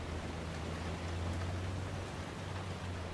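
Steady rain falling in the open-world video game Ghost Recon Wildlands, a continuous even hiss with a low rumble beneath it, heard alone at moderate loudness throughout.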